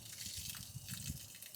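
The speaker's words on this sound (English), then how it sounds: "Sounds like the bilge pump just kicked on." Water gushing and splashing from the bilge pump of a leaking 1990 Cobalt boat, a faint continuous churning flow with no voices over it.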